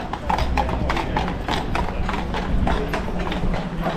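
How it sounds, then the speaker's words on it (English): A carriage horse's hooves clip-clop steadily on pavement close by in Prague, a continuous rhythmic clatter with street noise and faint voices underneath. "we just bumped into this horse and carriage"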